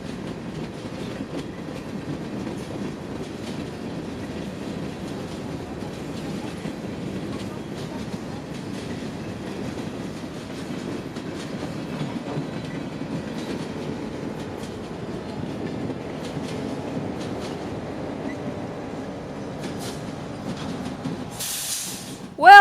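A freight train of empty centerbeam cars, boxcars and a hopper rolls past at a steady pace in Plant City, Florida, a continuous low rumble with faint clickety-clack from the wheels, heard from some distance.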